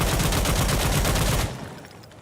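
A G3A3 rifle fired from a crouch in Insurgency Sandstorm rattles off a loud rapid automatic string of evenly spaced shots, stopping abruptly after about one and a half seconds and leaving a fading echo.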